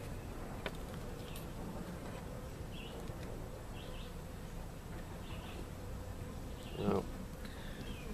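Honeybees hum steadily around a small swarm hive outdoors, a dense, constant buzz with a few birds chirping faintly in the background.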